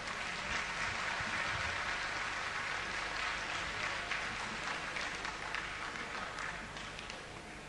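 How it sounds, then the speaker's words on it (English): Sustained audience applause at a stage event in India, steady and dense throughout, tapering slightly toward the end with no talk over it. "Can we all have a big clap for them?"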